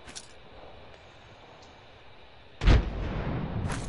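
A frag grenade goes off in Apex Legends with a single sudden loud blast that rolls into a sustained rumbling roar, following a quiet stretch of low background game noise.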